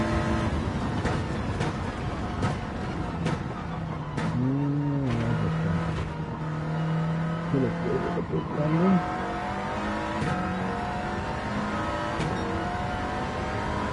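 A race car in the Gran Turismo 7 video game drones under throttle on a Le Mans circuit, with engine pitch rising and dropping through shifts and braking, steady and loud, as someone talks over it.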